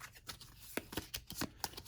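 A deck of board game cards from Pandemic: Reign of Cthulhu is shuffled by hand, producing a quick run of close, soft riffling flutters and light slaps lasting under two seconds.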